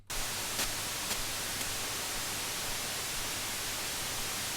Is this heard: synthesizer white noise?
yes